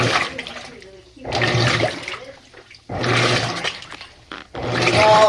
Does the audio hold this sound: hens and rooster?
no